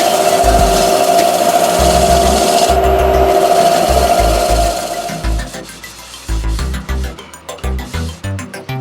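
Old conifer wood bowl being denibbed on the lathe: a continuous abrasive rasping and rubbing over a steady machine hum, then repeated short rough strokes in an uneven rhythm, close and fairly loud, with no talking.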